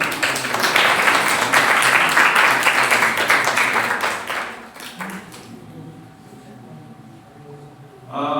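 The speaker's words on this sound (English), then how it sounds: "Big round of applause for Greenhouse" Applause and clapping from a school audience for a house team at an inter-house quiz competition, dense and steady for about four seconds, then quickly dying away to quiet with a brief renewed burst at the end.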